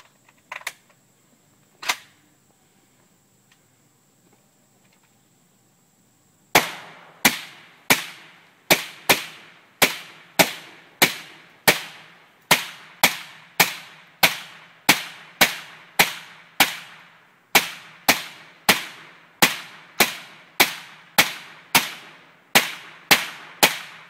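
A suppressed AK47 fires Tula 122 grain ammunition through a Mystic suppressor outdoors beside a range, with a long run of about thirty sharp, evenly spaced muffled shots after a quiet pause with a couple of faint thumps.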